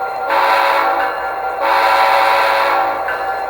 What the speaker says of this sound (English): We're going to blow our proper whistle signal, which is we're going to be moving in the forward direction.